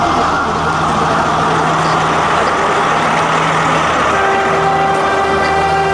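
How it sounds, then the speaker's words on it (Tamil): Train on the northern railway line rolls past with a steady loud rumble, and sustained horn-like tones come in toward the end. "இந்த ரயில் இன்று முற்பகல் 10 மணிக்கு பளை ரயில் நிலையத்திலிருந்து பயணத்தை ஆரம்பித்தது"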